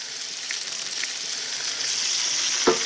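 Pork tenderloin sears in a hot pan, giving a steady, close hiss of frying oil with a faint tick and a small clunk near the end.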